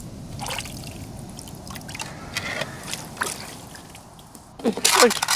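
Water trickles and splashes steadily in the background while people talk nearby, with a louder splashing burst near the end.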